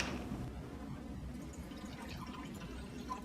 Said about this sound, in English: I'm going to take my cup and I'm going to fill it all the way up with water.